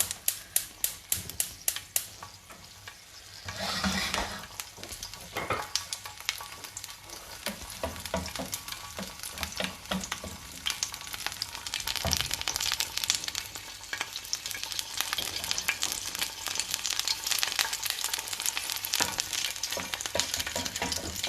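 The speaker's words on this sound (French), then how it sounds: "Je vais chauffer un tout petit peu, réchauffer un tout petit peu la purée à feu doux." Mashed potato purée reheating over low heat in a pan, with a spoon stirring through it in soft, irregular scrapes and light sizzling that stays steady and close throughout.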